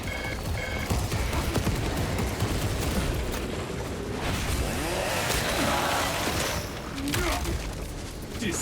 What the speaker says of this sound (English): Let us fire at the Tyranids.